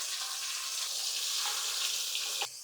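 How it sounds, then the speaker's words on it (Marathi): Onion paste frying in hot oil with whole spices and dried red chilli, being stirred while cooking for chhole masala; a steady, close hissing sizzle continues throughout, with no talking. "आता याला चांगलं तेल सुटेपर्यंत परतूया"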